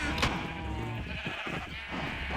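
Sheep bleat on a sheep farm inside a Minecraft-like video game, a soft, thin cry or two sitting fairly faint against a low, steady game background with no talking.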